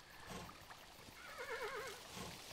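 A horse in the video game Kingdom gives a short, wavering whinny that sits quietly above soft background sound, with no voice over it.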